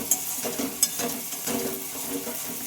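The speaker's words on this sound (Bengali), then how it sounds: "এইভাবে মশলাটা নেড়ে নেড়ে ভালোভাবে কষিয়ে নিতে হবে" Spice paste stirred and fried in a pan for an ash gourd dish, with a few scraping stirs and soft clinks over a low sizzle, close and quiet.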